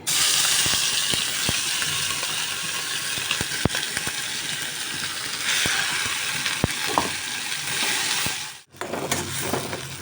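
Black cumin and spices sizzle hard in hot oil in a kadai, a dense close hiss with scattered sharp pops and crackles, dropping briefly near the end before the frying resumes.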